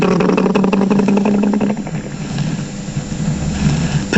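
A helicopter sound effect marks Harold the helicopter buzzing away, a loud rhythmic rotor chop with engine whine that gradually blurs and fades as it departs.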